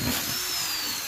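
Power drill driving screws into wood while making panel doors, a brief loud steady motor whine heard up close.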